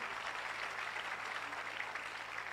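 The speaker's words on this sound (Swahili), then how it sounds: "Tuwapigie makofi mazuri." Applause for pastors standing at a church gathering: a continuous wash of clapping from a crowd, steady and moderately distant, with no voices.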